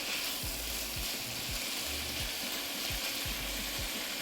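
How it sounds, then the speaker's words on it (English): A vegetable medley for a Philly cheesesteak fries in a pan at moderate heat, giving a steady gentle sizzle broken by a series of regular utensil taps and scrapes as it is stirred, quiet with no voices. "I love the sizzle sounds."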